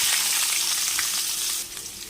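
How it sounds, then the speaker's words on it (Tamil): Steady, loud sizzling of chopped onions frying in a pan until golden, with faint stirring scrapes and no voices. "வெங்காயத்தை நல்லா பொன்னிறமாக வதக்கி எடுத்துக்கலாம்"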